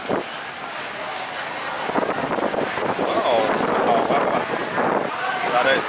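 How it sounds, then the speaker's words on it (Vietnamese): Strong wind buffets the microphone on a busy evening food street along Nguyen Tri Phuong in Saigon, giving a loud continuous rumble and roar with voices mixed in. "gió to quá"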